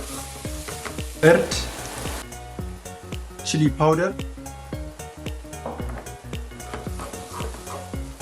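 Onion with garlic-ginger paste, turmeric and chili powder frying in a pan for dal makhani, giving a steady sizzle with stirring scrapes and a few louder bursts, while a voice talks over it.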